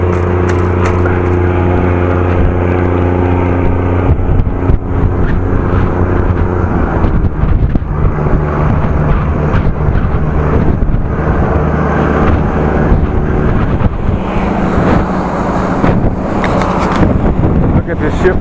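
Very heavy wind batters the microphone while someone rides a bike, a loud continuous roaring buffet lasting the whole stretch, with a voice talking under it.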